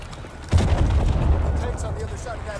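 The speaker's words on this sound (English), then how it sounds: "Just a little gunfire." Call of Duty gunfire erupts in a heavy, booming burst of shots and explosions that starts abruptly and rumbles on loudly, with a voice talking faintly underneath.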